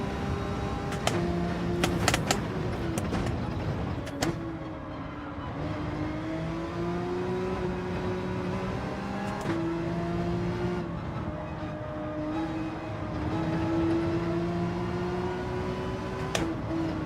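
Porsche race car engine revving and shifting through gears in Gran Turismo 7, a steady loud engine drone rising and dropping in pitch with brief gearshift breaks and occasional clicks.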